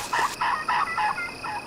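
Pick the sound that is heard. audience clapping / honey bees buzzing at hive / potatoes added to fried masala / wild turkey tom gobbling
wild turkey tom gobbling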